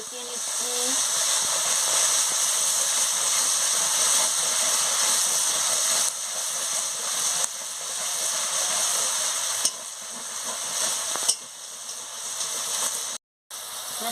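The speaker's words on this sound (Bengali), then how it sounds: "মশলার সঙ্গে দিয়ে ভালো করে কষিয়ে নিচ্ছি।" Spices and chopped tomato fry in a pan with a little water, a steady close sizzle and hiss running throughout with faint stirring scrapes, briefly cutting out near the end.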